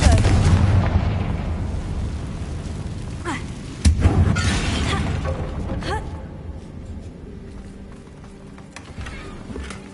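Confringo fire blast spell in Hogwarts Legacy, booming explosive bursts with a sharp blast near the middle, then rumbling decay and debris over a dense game soundscape.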